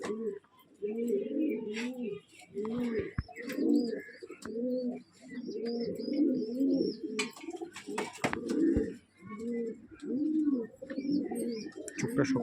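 Dhari pigeons give repeated low, throaty coos in steady rhythmic phrases, close and fairly loud, with occasional soft chirps and brief rustling bursts in between.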